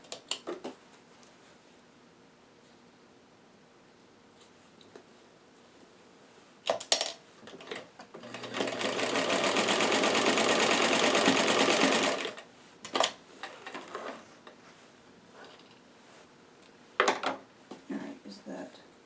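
A sewing machine runs in one steady, loud whirring stretch of about four seconds while gathering fabric for a doll dress, framed by scattered clicks and handling noises and quiet talk before and after.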